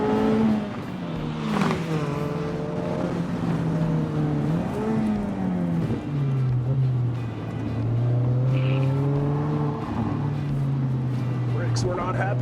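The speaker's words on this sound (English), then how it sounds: "Let's do a hot lap." A Mazda Miata race car's engine drones and rises through the gears on a hot lap at a Flyin' Miata summer camp track day, loud and continuous with shifting pitch steps, with a voice talking over it.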